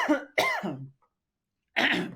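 A person coughs hard several times in quick succession, pauses briefly, then coughs again, close and loud.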